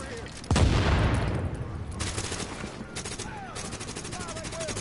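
Gunfire in The Division video game: a sudden loud burst of shots followed by rapid, crackling automatic fire and scattered reports, with other game sounds mixed in.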